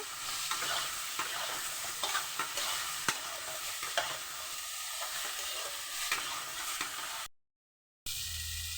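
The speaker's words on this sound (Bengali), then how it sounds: "এবার টমেটো কুচিগুলো দিয়ে দেব।" Chopped tomatoes added to frying cauliflower, radish, potato and aubergine in a pan, a dense close sizzle punctuated by repeated sharp stirring clatters from a spoon, steady throughout before a brief silent gap.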